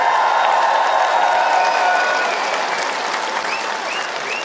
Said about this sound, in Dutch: Dus een warm applaus voor iedereen die deze Koningsdag mogelijk heeft gemaakt